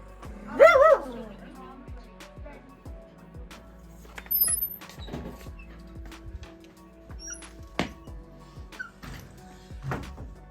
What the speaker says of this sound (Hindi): डॉगी कहाँ पर है? बहुत क्यूट डॉगी है।